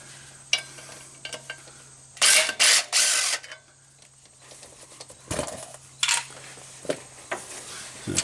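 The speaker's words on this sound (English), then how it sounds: "The 20 volt doesn't even feel these little bolts." A 20-volt cordless power tool spins out small bolts from a Suzuki clutch pressure plate in a few loud, short whirring bursts, with quieter clicks and shop noise between them.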